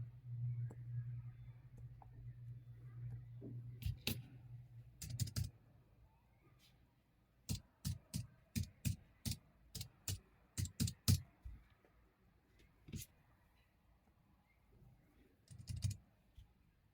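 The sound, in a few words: typing on tablet keyboard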